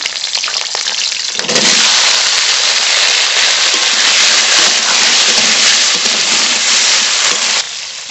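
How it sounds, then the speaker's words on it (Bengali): Cut and washed potatoes dropped into the hot oil left over from frying paneer burst into a loud, dense sizzle that holds steadily for several seconds and then cuts off. "পনির ভাজা তেলের মধ্যেই আলু ভেজে নেব"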